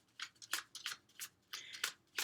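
Tarot cards are shuffled in quick crisp bursts, about eight short papery riffles in an uneven rhythm, close and fairly quiet with no talking.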